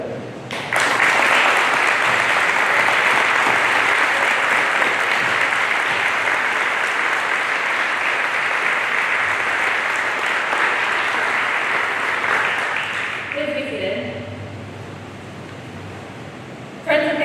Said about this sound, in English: Please join me in a round of applause for the U.S. Navy's 3rd class petty officers.